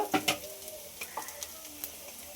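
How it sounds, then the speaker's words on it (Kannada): Masala for a dhaba-style kaju paneer butter masala being fried in a pan, opening with a couple of sharp stirring scrapes and sizzles, then softer scattered ticks and light frying crackle. "ಈಗ ಇದು ಒಂಚೂರು ಚೆನ್ನಾಗಿ ಫ್ರೈ ಆಗಲಿ, ಹಸಿ ವಾಸನೆ ಹೋಗೋವರೆಗೂ ಈ ರೀತಿ ಆಗಬೇಕು."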